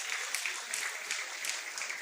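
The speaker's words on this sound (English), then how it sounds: "A round of applause for all the teachers." Ceremony audience applauding the teachers at a school felicitation event, a soft, continuous patter of many hands clapping, somewhat distant and faint.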